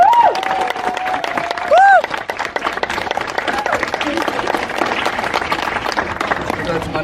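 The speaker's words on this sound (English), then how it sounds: "So can I just get a round of applause?" A crowd at a London Fire Brigade passing-out ceremony applauds and cheers, steady clapping throughout with a couple of rising whoops or whistles near the start.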